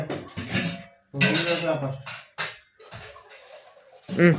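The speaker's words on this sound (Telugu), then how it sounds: "అందరు గిన్నెలు కడుక్కురాప." Dishes and vessels being washed by hand after a shared meal of chicken curry, with clinks and scrapes of pots and utensils mixed into lively conversation from several people nearby.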